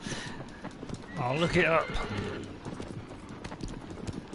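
Horse hooves clip-clopping in Shadow of the Colossus with a short neigh near the middle, close and rhythmic, while someone talks over them.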